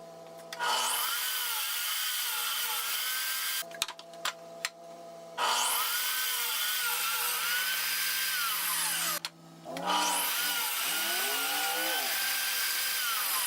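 A power saw cuts wooden side pieces for a sandpaper organizer made from scrap wood, three long, loud, close buzzing cuts with the blade pitch dipping under load, separated by short gaps.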